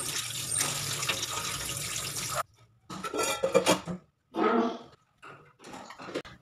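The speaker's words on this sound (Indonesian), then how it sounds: "aku mau cuci kembali dan ditiriskan agar kita mudah untuk mengkupas kedelainya" Soaked soybeans for tempeh chips are rinsed at a sink, running water hissing steadily before cutting off, followed by sloshing, clattering bowl handling and scattered wet splashes in short bursts.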